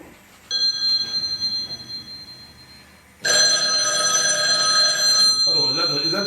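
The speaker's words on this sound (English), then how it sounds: "I think that's the phone." A telephone rings loudly with a bright, sustained electronic bell tone that starts, pauses and then rings again even louder, while people talk in the room.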